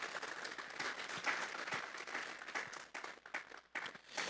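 Faint applause from a church congregation during a sermon, a soft, uneven patter of many hands heard at a distance.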